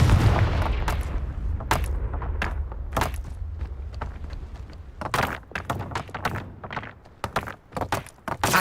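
Confringo fire spells from the Hogwarts Legacy video game burst repeatedly as sharp booming thuds, several explosions spread across the stretch at irregular intervals over a low rumbling game background.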